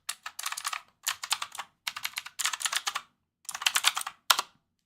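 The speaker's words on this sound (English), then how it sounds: "it has the old school typewriter buttons, and she wants that mechanical sound" Rapid bursts of clacking from a pink mechanical keyboard with round, typewriter-style keys, typed up close in five or six quick flurries separated by brief pauses, with no talking.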